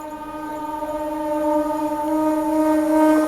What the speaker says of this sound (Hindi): 20:887 वाराणसी वंदे भारत एक्सप्रेस की ओवरटेकिंग।